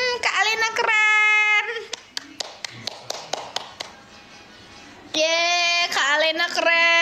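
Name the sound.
clapping hands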